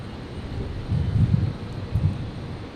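A jet airliner takes off at Brisbane airport, a broad roaring rumble heard from a distance with wind buffeting the microphone, swelling and fading in uneven surges.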